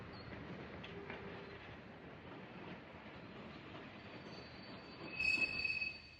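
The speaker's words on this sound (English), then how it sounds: "he saw a train arriving and so improvised a gag to make it look like he himself stopped it" A train pulls in with rolling wheels, clickety-clack and a thin, sustained wheel squeal that rises near the end, heard from an old Buster Keaton silent-era scene with no voices.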